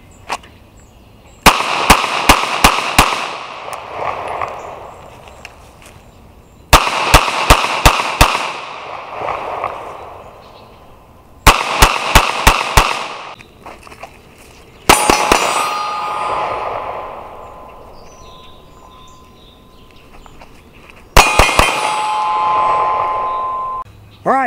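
Sig Sauer XL pistol fitted with a Romeo Zero Micro red dot fired at a steel target, rapid strings of four or five loud sharp shots, each string followed by ringing metallic clangs, repeated across several bursts outdoors.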